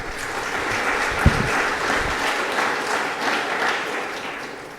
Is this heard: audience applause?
yes